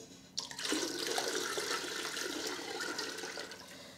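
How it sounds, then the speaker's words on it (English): Liquid poured into a pot while cooking jook, a sudden onset followed by a steady, full splashing pour that runs close and loud for several seconds without speech. "now I'm going to pour it in here"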